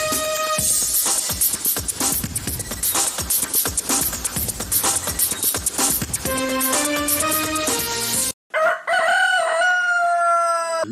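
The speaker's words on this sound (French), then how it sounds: "Le coq chante pour annoncer le lever du jour." A rooster crows at daybreak in a village, with several loud, close cock-a-doodle-doo calls rising over a busy, clattering background; after a short break a final clear crow rings out.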